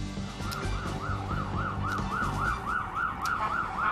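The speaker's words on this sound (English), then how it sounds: "The sirens in the background Saturday night in New York City." Emergency sirens wail in a steady rising-and-falling cycle through New York City on a Saturday night in September 2001, somewhat distant, mixed with low traffic rumble and no voices.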